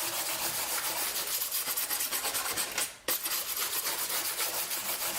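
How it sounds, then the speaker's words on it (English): Rhythmic back-and-forth sanding scrapes against hard resin, steady and close, with a brief pause near the middle before the rubbing resumes. "I'm sanding resin."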